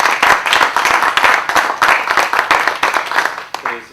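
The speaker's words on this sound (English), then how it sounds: "let's just give them a round of applause" A crowd applauds steadily with dense, continuous clapping that carries on for several seconds before tapering off at the end.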